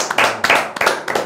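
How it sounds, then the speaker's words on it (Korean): A small group in a studio claps in a few quick bursts, close and loud, with short pauses between the rounds of hand claps. "박수 한번 치시죠 이거."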